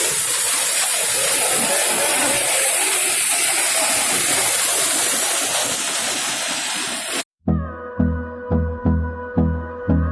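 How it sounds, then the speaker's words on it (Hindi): A waterfall of high-pressure cold water at Jana Falls, Manali, roars as a dense, steady rush for about seven seconds, then cuts abruptly to music. "आप शोर सुन सकते हो इसका, कॉल का।"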